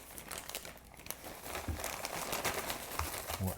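Plastic packaging of a Canadian chili MRE crinkles and rustles as it is cut open and unwrapped, a close, quiet stream of crackling handling noises.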